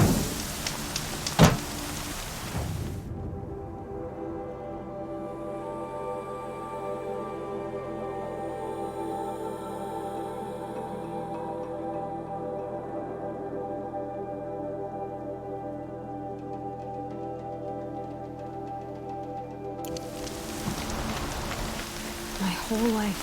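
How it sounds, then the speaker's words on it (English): Steady rain pours in the Horizon Zero Dawn video game, a dense continuous hiss that holds evenly for most of the stretch, with game ambience and soft tones at the start and end. "Rain's too loud to hear much."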